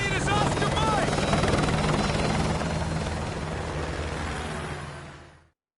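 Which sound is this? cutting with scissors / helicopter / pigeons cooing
helicopter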